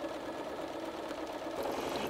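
A domestic sewing machine stitching in place during free motion quilting, a fast steady whirring hum that runs unbroken, close and fairly quiet.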